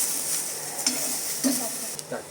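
Small tomato and peeled garlic cloves stirred in a pan with browning onions, a steady sizzle with a few soft spoon scrapes and light taps against the metal.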